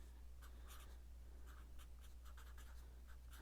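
A pencil writes on paper in irregular short scratchy strokes, faint and close, over a low steady electrical hum, with no voices.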